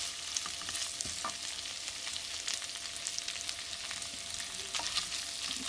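Onions frying in a wok over medium-high heat, a steady close sizzle with faint crackles and occasional stirring clinks, no voices.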